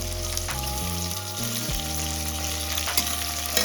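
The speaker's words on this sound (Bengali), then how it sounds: "পেঁয়াজটা হালকা ভাজা ভাজা হয়ে আসছে" Chopped onions sizzle steadily in hot mutton fat in a pan for mutton keema ghugni, a continuous frying hiss with occasional stirring, close and even, while a low tonal hum runs underneath.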